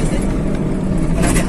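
Eicher 3015 truck on a test drive along a rough road, a steady low engine drone and road rumble filling the cab throughout at close range.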